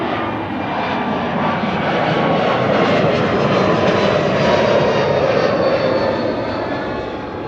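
JetBlue jet airliner bound for Toronto taxiing at Amsterdam Schiphol Airport, a loud, close, steady engine roar that swells gently and then eases, with no voices.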